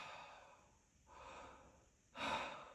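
A voice imitates a patient's deep breath after needle decompression of the chest: a soft inhale, then a longer breath, then a sharper, louder gasping intake, all close and quiet.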